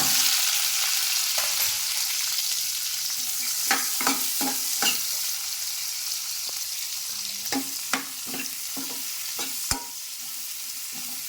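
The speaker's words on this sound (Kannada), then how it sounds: "ಇದು ಫುಲ್ ಚೆನ್ನಾಗಿ ಫ್ರೈ ಆಗಬೇಕು ಎಣ್ಣೆಲೆ" Onion, tomato, ginger and garlic frying in oil for egg sambar, a continuous close sizzle broken by clusters of sharp spoon scrapes and taps against the pan, with no talking.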